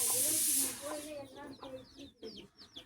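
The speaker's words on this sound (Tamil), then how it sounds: "அங்கே பாருங்க, அங்கே ஒரு சேவல் வருது பாருங்கள்." Black chickens cluck and call in short bursts after a brief hiss, with a rooster call among them, nearby and moderately loud.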